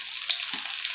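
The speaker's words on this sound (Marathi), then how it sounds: "बघा तडका कसा तडका बसतोय." Garlic with cumin and mustard seeds sizzles in hot oil for a tempering, a close, steady hiss and crackle throughout with no voices.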